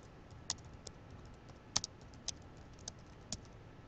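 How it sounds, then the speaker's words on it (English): A computer keyboard is typed on in a few sparse, light keystrokes, soft separate clicks spaced unevenly against a quiet background, close and faint with no talk. "I'm just gonna type out something"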